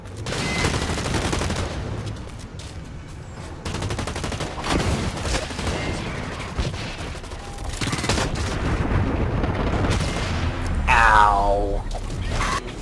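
Rapid automatic gunfire rattles in dense, loud bursts in the Blacklight Retribution shooter, with a few heavier booms and a sharp sweeping whine near the end.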